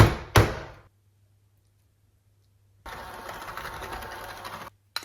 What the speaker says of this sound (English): I'm using a handheld mixer here so you can actually see inside the bowl